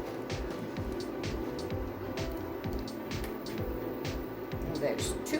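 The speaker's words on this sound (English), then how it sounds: "The induction cooker makes a fan noise." An induction cooker's fan hums steadily underneath while eggs are being cooked, a constant low whir with clicking and kitchen handling noises on top.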